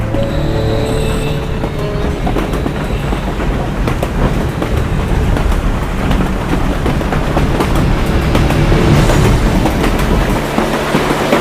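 A train rolls along the tracks with a loud, continuous rumble and irregular clanking rail clicks, steady throughout with no talking.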